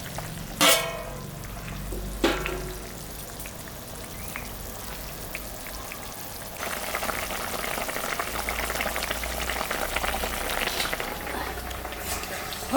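Fish curry with fresh papaya simmers in a pot, a soft, continuous bubbling and light sizzle at low volume, with a couple of sharp clanks from the lid or utensils early on and the boiling growing busier toward the end.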